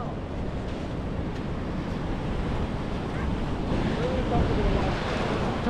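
Ocean waves and surf along the San Diego coast at high tide, a steady broadband wash of breaking water with wind buffeting the microphone, rising slightly toward the end.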